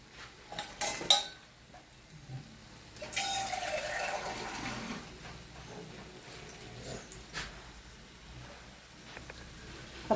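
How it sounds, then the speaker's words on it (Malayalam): Water is poured into a cooking pot on the stove, a gushing splash near the middle set among clinks and clatter of pots and utensils. "കുറച്ച് വെള്ളം ഒഴിക്കണം."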